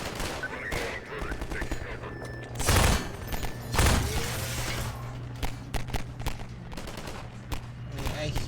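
Rapid bursts of gunfire in Half-Life 2, sharp repeated shots crackling over a steady background hum, with two heavier booming volleys standing out early on.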